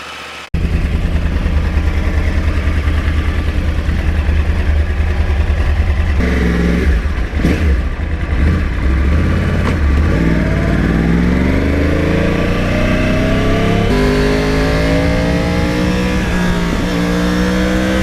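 A 2009 Yamaha R1 crossplane motorcycle engine starts, idles with a loud uneven burble, then revs repeatedly in rising and falling sweeps before settling back, close and loud throughout.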